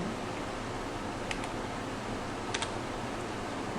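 Keys clack on a computer keyboard as an HTML attribute is typed, a few soft, sparse taps over steady background hiss.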